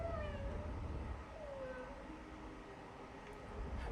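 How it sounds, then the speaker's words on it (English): A small cat-like creature in the game Planet of Lana II lets out thin, wavering meows over a low rumbling game soundtrack, moderately loud with no talk. "Now, is that our little cat making noises"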